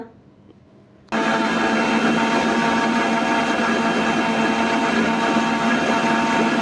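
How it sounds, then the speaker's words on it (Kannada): An electric mixer grinds dragon fruit and cooled boiled milk into a milkshake, starting after a brief quiet moment and then running as a steady, loud, dense whirring roar to the end. "ಇದನ್ನು ಹಾಕಿದ ನಂತರ ಮುಚ್ಚಿ ನುಣ್ಣಗೆ ರುಬ್ಬಿಕೊಳ್ಳೋಣ"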